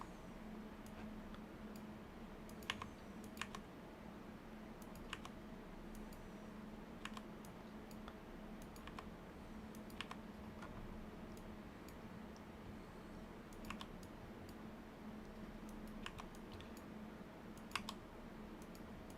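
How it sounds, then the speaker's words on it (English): Computer mouse left-clicks and delete-key presses during office work on a property floor plan, sparse, crisp clicks scattered irregularly over a steady low room hum, close and fairly quiet, no talking. "We're just left clicking and deleting."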